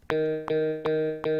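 An electric guitar chord played through a wah pedal effect is struck four times at a steady pace, each ringing with a processed, filtered tone, close and alone.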